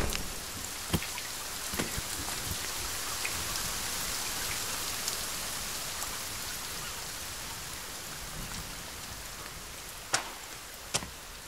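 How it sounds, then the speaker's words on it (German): Rain falling in the survival video game The Forest, a steady soft patter on surfaces with a few sharp isolated drips or knocks, fairly quiet and continuous with no talk. "jetzt regnet es auch zum ersten Mal hier"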